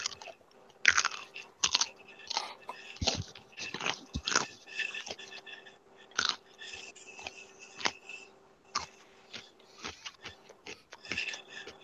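Close, crisp crunching from biting and chewing a raw carrot, irregular sharp crackles repeating throughout with no talking.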